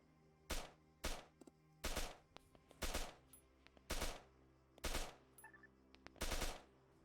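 Arma 3 gunfire in loud, separate bursts, roughly seven short strings of rapid shots spaced about a second apart, with faint background noise between them.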